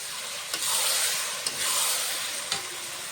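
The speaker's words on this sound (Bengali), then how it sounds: "নুন হলুদ মেখে রাখা মাংসটা দিয়ে দেবো, খাসির মাংসটা দিয়ে দেবো।" Salted, turmeric-coated mutton hits hot spice paste that has released its oil, setting off a loud, steady sizzle and hiss with three sharp stirring scrapes spaced about a second apart, close up and without talk.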